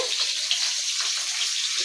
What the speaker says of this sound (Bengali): এই দেখো এখানে মাছ ভাজা হচ্ছে